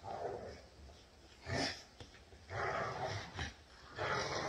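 Dogs bark and growl in short bursts with pauses between, sounding playful and fairly close.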